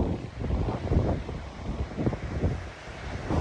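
Strong wind gusts buffet the microphone at a lava rock fishing port, coming in loud, uneven rumbling bursts with a faint wash of surf behind and no voices.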